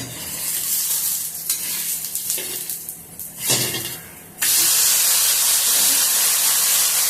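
Thalipeeth, a Maharashtrian flatbread, frying in a pan as it is turned: soft sizzling with scrapes and a clatter of the spatula, then a sudden loud, steady burst of hissing as the other side hits the hot pan.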